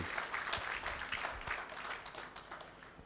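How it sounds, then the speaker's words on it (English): Faint, distant applause from a conference hall audience at the official opening of a joint conference in Zanzibar, an even wash of clapping with no talk. "Please, let's clap for once again to our President of Zanzibar for the great presentation."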